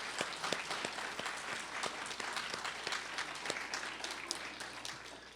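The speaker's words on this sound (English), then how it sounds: "let's give them a round of applause" Applause from a conference audience for presenters at a research and conservation conference, a rather distant room of steady overlapping claps with a low hum beneath.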